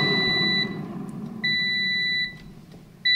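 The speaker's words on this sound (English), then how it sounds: "Just like 3 loud, longer beeps" An air fryer's finishing signal: three long electronic beeps, loud and steady, each sustained about a second with short gaps, sounding alone against a faint background hum.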